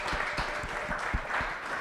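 A live audience at a football booster club show applauds a dance team, a brief burst of mixed clapping that sounds somewhat muffled and roomy.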